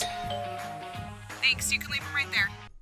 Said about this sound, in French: Cette sonnette vidéo de alarm.com est sans contact.